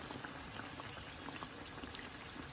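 Meat-filled chebureki fry in hot oil with a faint, steady bubbling crackle. It is continuous and low in level for a couple of seconds.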